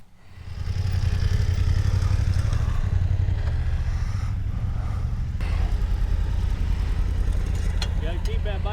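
An adventure motorcycle rides slowly during rider training, its mid-pitched engine droning steadily at close range with some clatter, while someone speaks over it.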